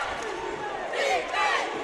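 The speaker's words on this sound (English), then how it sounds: "Savannah State's crowd making some noise." Home crowd at a Savannah State college basketball game against Allen roars and yells in the arena, a rising, swelling wave of cheering that peaks twice in quick succession.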